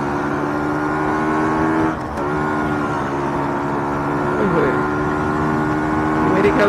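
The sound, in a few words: Yamaha RX135 cafe racer motorcycle riding past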